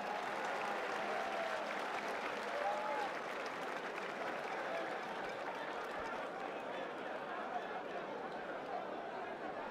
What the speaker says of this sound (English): if you agree with me, then show some love with applause